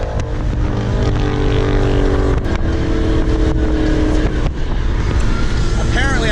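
A right-hand-drive Honda Type R drives along with a steady, loud engine and road roar throughout, with broadband tire and wind noise and a slight rise in engine pitch near the end.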